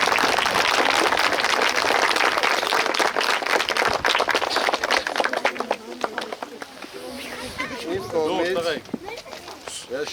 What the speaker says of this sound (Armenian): Ծափ տվեք, հա,